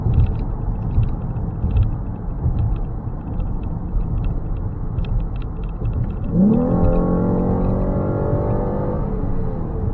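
A Ford Explorer with an EcoBoost engine, running louder than normal and seemingly short of power, gives a steady rumbling drone that swells near the end into a straining rising whine as it accelerates.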